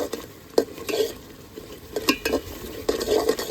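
Tomatoes cooking down with spices in a pan, stirred in repeated scraping strokes over a low sizzle, each pass clattering sharply and close by.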